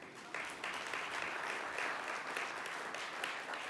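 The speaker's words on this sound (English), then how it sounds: "give yourselves a round of applause." A dinner crowd at an American Bar Foundation anniversary celebration breaks into applause, a thick, even wash of clapping that swells in after a short moment and holds steady, heard from a moderate distance.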